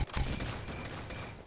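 Rapid-fire grenade launcher in Tom Clancy's Ghost Recon (2001), a quick string of dull booming shots at the start, then fainter rumbling echoes fading over a low background.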